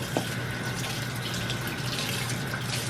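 Tap water runs steadily from a faucet over a bagged frozen catfish being rinsed in a sink to thaw, a continuous close hiss and splash with no talking.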